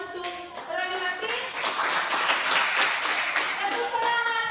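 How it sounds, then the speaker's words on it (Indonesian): Schoolchildren in a classroom clap for a classmate, a brisk close patter of hands mixed with children's voices calling out throughout. "Silakan tepuk tangan untuk Roy Martin."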